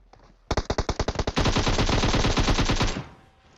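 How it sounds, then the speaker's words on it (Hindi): Rapid automatic gunfire in the game PUBG, a burst of separate sharp shots that speeds into a sustained roaring stream, loud and close, then cuts off. "उस गन की आवाज 100 गुना ज्यादा आती है रिकॉर्डिंग में"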